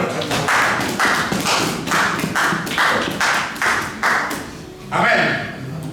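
A church congregation claps in rhythmic bursts, a crowd of hands close and loud, building in waves with brief gaps between them, with a voice underneath.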